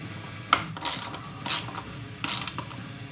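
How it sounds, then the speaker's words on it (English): A ratchet wrench tightens the bolts on a Peerless transmission case being prepared for racing and off-road use, giving three short bursts of clicking, close and fairly loud, with brief pauses between them. "get them all tightened down."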